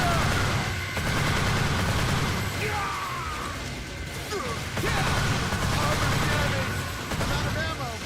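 Rapid gunfire from the video game Earth Defense Force 2017, dense bursts of shots and crashing battle noise running continuously at high level, with voices shouting over the combat.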